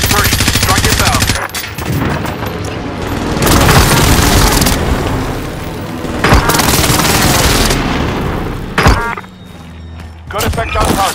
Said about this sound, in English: Airstrike. Hit it.